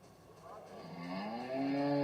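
A cow moos during a cattle stockmanship game at a clinic arena, a single long, rising bellow that swells louder toward the end, close by with no talk over it.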